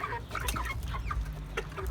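Young chickens, mostly cockerels, cluck in short, scattered bursts, close by and fairly quiet.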